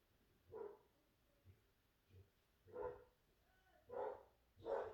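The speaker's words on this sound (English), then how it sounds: "my dog barking in the background" A dog barks downstairs in a house, five or six muffled, distant barks spaced irregularly, faint and alone with no talk.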